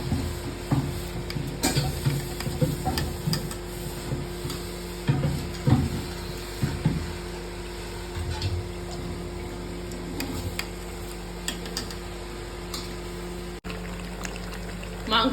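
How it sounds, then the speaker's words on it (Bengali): Rice tipped into a pot of boiling water for chicken biryani, a steady bubbling wash broken by clustered stirring and pouring bursts and a few sharp clinks, fairly close throughout. "এখন আমি চালটা দিয়ে নিচ্ছি"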